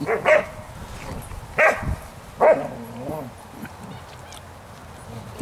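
Doodle poodle puppies barking in a yard, with three or four sharp yaps spaced out over a few seconds, close and moderately loud, while a person talks softly in between.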